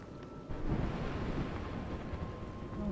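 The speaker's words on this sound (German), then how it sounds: "Hört der Regen langsam auf?" Thunder rumbles with steady rain in the video game A Juggler's Tale, a broad continuous wash that swells louder after a brief quieter opening and holds without speech.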